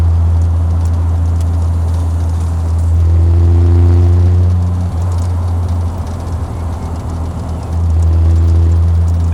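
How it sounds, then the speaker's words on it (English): A 1968 Triumph TR250 engine and exhaust drone steadily while driving, a loud low hum that rises in pitch briefly as it accelerates and eases, heard alone without talk. "The exhaust note is fantastic."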